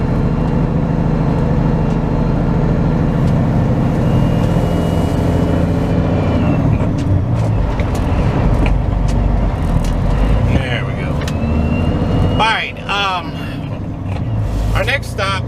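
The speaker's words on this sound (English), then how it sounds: "I got it in low gear. We're just crawling up the hill here" Loaded flatbed semi truck engine crawling uphill in low gear, a loud, steady low diesel rumble close by, with someone talking over it and brief squealing tones near the end.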